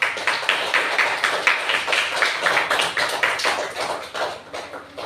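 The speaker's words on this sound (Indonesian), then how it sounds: "Nah, tepuk tangan buat kita semua." Classroom of pupils clapping hands together for one another after group presentations in a school lesson, a dense run of sharp claps at close range with no talk over it.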